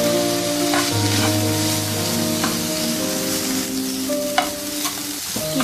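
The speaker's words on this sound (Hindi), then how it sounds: "फ्लेम स्लो करके इसको कवर करके 1-2 मिनट सिमर कर लेंगे" Keema simmering in a covered pan on a low flame, giving a steady soft sizzle with a few faint clinks and stirring noises.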